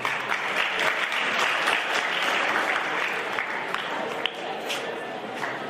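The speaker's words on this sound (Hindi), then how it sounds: "आप सभी की जोरदार तालियों के बीच" Loud, sustained applause from an audience of schoolchildren at a World Health Day awareness event at a Jawahar Navodaya Vidyalaya school in Indore, dense steady clapping throughout with a slight swell near the end.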